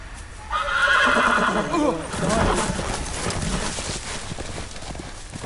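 A horse in a Game of Thrones episode neighs in a loud, drawn-out whinny near the start, with hooves clip-clopping beneath it, then fading under dramatic score and background chatter.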